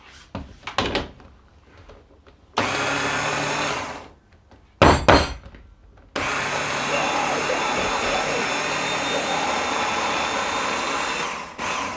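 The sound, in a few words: blender mixing carrot top pesto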